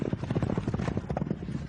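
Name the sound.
horse hooves clip-clopping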